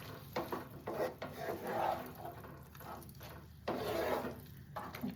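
Coriander chicken being stirred in a covered pan cooking in its own juices, with soft scraping and rubbing of a utensil in quiet bursts, moderately close.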